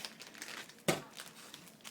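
A cardboard box of old bacon mix with a plastic bag inside is opened up close, giving continuous papery crinkling and rustling with one sharp crackle partway through.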